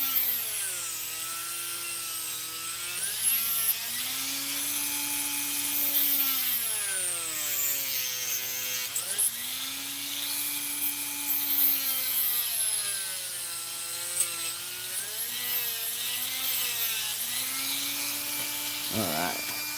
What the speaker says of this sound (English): since I cut that off with the cutoff wheel